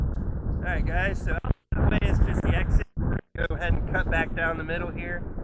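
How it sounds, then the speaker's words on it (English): Low, rumbling wind buffets the microphone outdoors in a cemetery, a constant heavy roar beneath someone talking close by, briefly audible alone in short gaps between his phrases. "I know it's very windy out."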